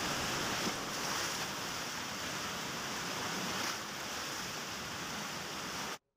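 Floodwater rushes in a dense, continuous roar after torrential monsoon rain at Bara in flooded Rajasthan. It holds steady and fairly loud with no voices, then stops abruptly.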